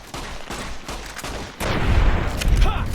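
Gunfire in the video game Fallout New Vegas, Honest Hearts add-on: a rapid volley of shots, quieter and scattered at first, then a louder, denser burst of booming fire in the second half.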